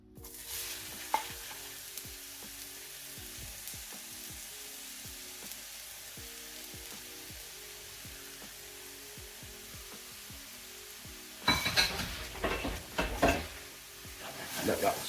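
Onions and garlic with chili in a little oil sweat in a pan, giving a soft steady sizzle with occasional stirring scrapes, then louder clattering stirring near the end.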